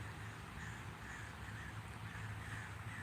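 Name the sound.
crows cawing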